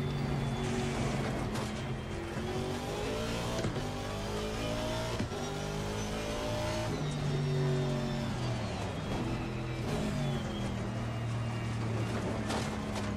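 An Aston Martin V8 Vantage race car in Assetto Corsa Competizione, its V8 engine droning steadily and close, rising and falling in pitch through repeated gear shifts and throttle changes, with no talking.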